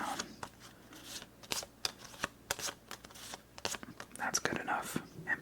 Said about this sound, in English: start by taking the kings and shuffling them face down